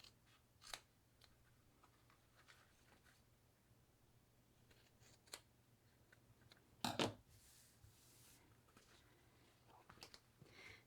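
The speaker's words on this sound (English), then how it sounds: "just little snips here and there until I get my desired results" Scissors make small trimming snips along a fabric seam allowance while a shoulder bag is being sewn, with a few soft, sparse cuts and one louder cluster of close snips in a quiet room.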